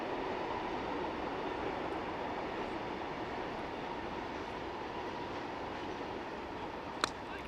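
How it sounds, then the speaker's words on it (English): A local train rumbles steadily in the distance near a European T10 cricket ground, a continuous broadband roar held for the whole stretch, with a brief sharp click near the end. "As you can hear the local train in the background."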